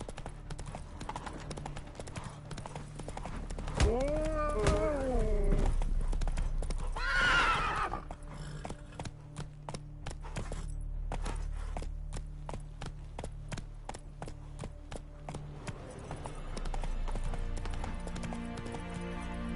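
Roach, the horse in The Witcher 3, gallops with rapid, clear hoofbeats and lets out two loud whinnies early on, then keeps up a steady clip-clop rhythm close by over quiet game ambience.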